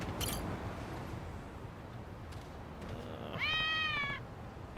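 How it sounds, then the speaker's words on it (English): A single clear cat meow from a cat in the video game Lost Judgment rises near the end over quiet background, after a brief faint chirp at the start. "Might as well check in with the cats."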